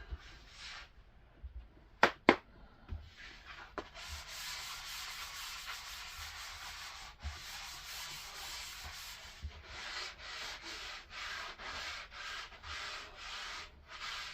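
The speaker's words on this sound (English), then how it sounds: "I believe this is a 220 sanding block." A 220-grit sanding block rubs back and forth across wood in steady strokes, near and continuous, with a few brief knocks at the start.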